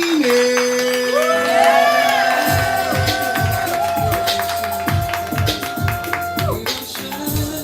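An audience at a live spoken-word poetry event cheers, whoops and claps for the next poet, a loud sustained crowd roar with a rising whistle-like tone and rhythmic clapping underneath.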